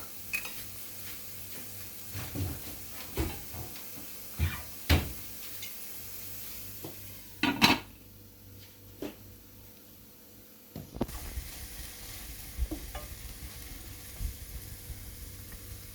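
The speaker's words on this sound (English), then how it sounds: "So let's saute it." Food sautéing in a pan for homemade shakshuka gives a soft, low sizzle with scattered clinks and knocks of utensils and cookware. Louder taps come intermittently over the quiet cooking hiss.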